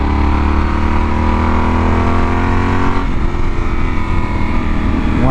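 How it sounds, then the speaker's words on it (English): A Yamaha Super Tenere motorcycle engine revs hard under throttle, loud and close, a sustained roar that shifts pitch and settles lower partway through. "when I crack on that throttle now, it sounds like what this bike really is, which is an oversized dirt bike."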